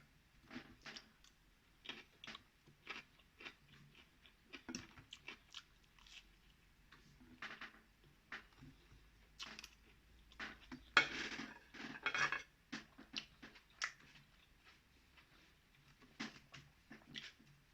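Someone eats scrambled tofu on toast with cutlery: faint, scattered clinks of utensils on a plate and soft chewing bites come at irregular intervals in a quiet room.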